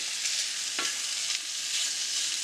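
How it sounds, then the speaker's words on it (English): A New York strip steak rubbed with taco seasoning sizzles on a hot griddle, giving a steady, close hiss with no talking. "I got the steak going up here."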